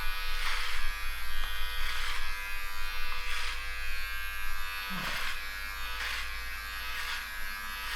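Electric hair trimmer buzzing steadily at close range during a home haircut, with a constant motor hum and periodic brighter swells as the blades pass through hair.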